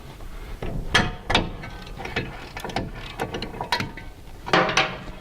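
A hand wrench loosening the front brake caliper bolts on a 2012 Scion xD during a disc brake job, giving a run of close, clicking ratchet strokes and metallic knocks in an uneven rhythm, with no talk.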